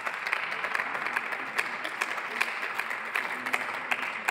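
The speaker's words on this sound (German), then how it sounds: "Applaus" Applause ripples through the Austrian parliament chamber after a ministerial speech on waste law, a moderate, somewhat distant patter of clapping that runs evenly throughout.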